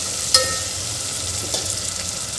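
Tomatoes fry in a pan for masale bhat with a steady, even sizzle, marked by one sharp utensil tap near the start and a few faint stirring scrapes.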